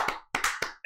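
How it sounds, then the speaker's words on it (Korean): Three sharp, evenly spaced hand claps in quick succession during a live talk-show stream, close and crisp, with the start of a fourth just as it cuts off. "자, 박수 3번."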